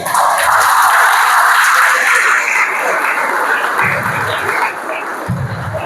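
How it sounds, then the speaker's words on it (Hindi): An audience at a lecture on the Indian knowledge system bursts into loud, dense applause that holds steady for several seconds and then eases slightly toward the end. "तो एक बार आप सबके लिए जोरदार तालियां"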